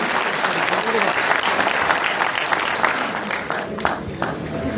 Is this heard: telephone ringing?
no